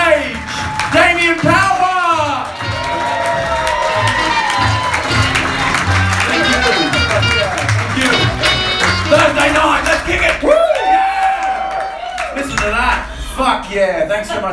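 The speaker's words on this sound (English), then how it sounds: "start applauding, start going crazy, and welcome to the stage, Damien" Comedy festival crowd in Melbourne applauding and cheering a stand-up comedian walking on stage, with sustained clapping, whoops and shouts throughout, loud and close, mixed with voices in the room.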